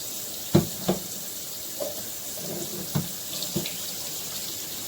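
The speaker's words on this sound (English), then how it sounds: "now I am going to rinse and drain it" Tap water runs steadily in a sink as cooked macaroni pasta is rinsed and drained for macaroni and cheese, with a few clunks and knocks over the constant close rush of water.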